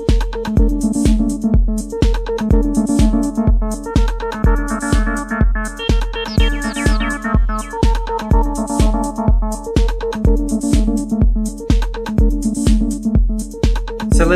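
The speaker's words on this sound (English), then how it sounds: "you would have heard in the intro there that there was like a little acid line" Electronic acid synth line built from Max for Live plugins in Ableton, a squelchy, resonant bass pattern pulsing steadily over a four-on-the-floor kick, loud and continuous with no voices.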